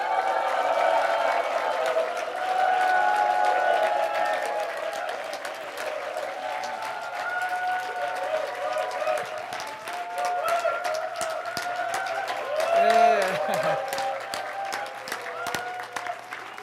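An audience at a Korean church leadership lecture applauds and cheers steadily to welcome a guest speaker, sustained loud clapping with voices mixed in throughout.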